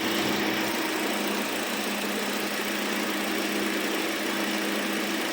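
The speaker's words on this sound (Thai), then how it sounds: "เดี๋ยวมาฟังเสียงเครื่องกันนะครับ" A stock, unmodified 1.8-litre engine of a 2018 Toyota Altis 1.8V idles, heard as a steady, even hum with a constant low tone and no revving or talk.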